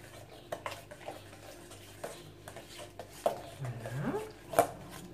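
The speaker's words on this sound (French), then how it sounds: "Je remue." A spoon stirs yeast into a little water in a bowl for challah dough, making faint scattered scrapes and light clinks against the bowl over a quiet background.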